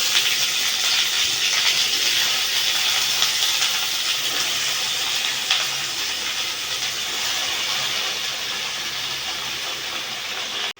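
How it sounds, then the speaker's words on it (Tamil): Washed spinach greens hit a hot pan and set off a loud, steady sizzle and hiss that lasts the whole time, easing off slightly partway through. "அலசி வச்ச கீரையை நம்ம இதில் போட்டுடலாம்"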